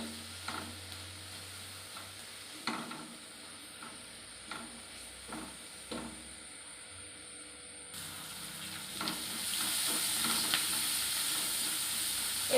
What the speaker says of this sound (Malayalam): ഇത് നല്ലോണം ഒന്ന് വഴറ്റി കൊടുക്കാം.